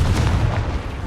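A Confringo fire spell blasts in Hogwarts Legacy, a loud, dense, rumbling burst that fills the whole moment with heavy low-end roar and no talking.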